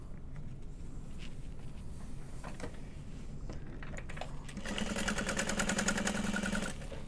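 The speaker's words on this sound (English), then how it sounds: "So now we just need to sew across the bottom. Sew that at 3/8 of an inch." A domestic sewing machine runs a seam across the bottom of a nylon handbag. Scattered clicks and handling noises come first, then a steady close motor whir with rapid stitching for about two seconds before it stops.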